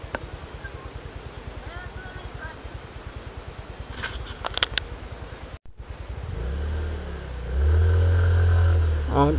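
A motorcycle engine pulls uphill on a mountain road in Rizal, with a steady throbbing putter that rises into a louder, sustained strain near the end, and brief rustling and a clunk midway.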